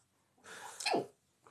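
A single quiet sneeze, a short breathy intake followed by a sharp burst, heard alone in a calm indoor space during an acrylic nail session.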